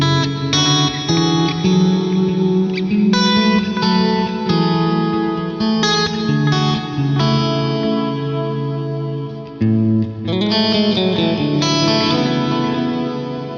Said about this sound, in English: So there's a lot of like swelly stuff that happens